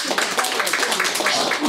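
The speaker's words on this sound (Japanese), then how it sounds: "嵐のようなパラパラとした拍手をいただきました" Thin, scattered clapping from a small live concert audience at an indoor music venue, close and steady for a moment with no talking.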